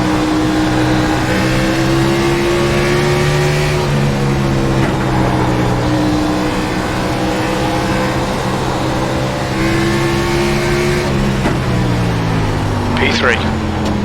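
Race cars roar at racing speed just after the green flag, a loud steady engine drone with rising and falling pitch as gears change, a voice speaking briefly over the noise.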